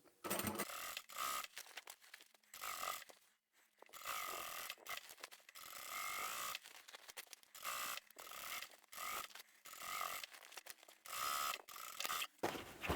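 A sewing machine stitches the handles of a lined fabric tote bag, running in short bursts with brief pauses between them, quiet and close with no voices.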